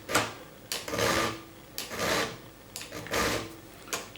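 A file rasps across a freshly sharpened cutter held in a file guide, in about five short, close strokes with brief pauses between them and no talking.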